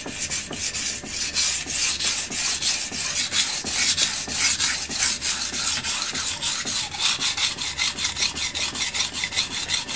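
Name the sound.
knife being sharpened on a Suehiro whetstone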